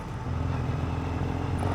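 Triumph Scrambler 1200 motorcycle exhaust rumbling steadily close by, a loud continuous low engine drone with no break.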